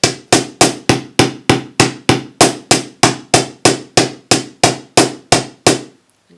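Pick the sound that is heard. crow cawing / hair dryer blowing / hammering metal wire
hammering metal wire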